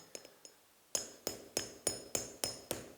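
A few light taps, then a steady series of sharp hammer blows driving a nail against a safety shoe sole, about two per second, loud and close with ringing overtones.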